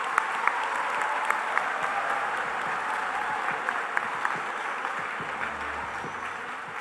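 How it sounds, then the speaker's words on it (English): A large audience at a state student skills conference opening ceremony gives a steady, sustained round of applause for sponsors, an even wash of clapping in a big hall with a few sharper claps standing out. "Let's give all of our sponsors a huge round of applause."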